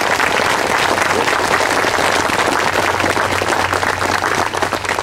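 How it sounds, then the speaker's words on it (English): Loud, continuous applause from an audience at a university military honor garden dedication, honoring an Army National Guard brass quintet, with dense clapping over a low steady hum. "Let's give them a round of applause."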